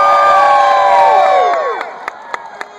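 A huge crowd of Groundhog Day followers at Gobbler's Knob lets out a loud, sustained cheer of many voices that slides downward and fades, leaving a few sharp, scattered claps at the end.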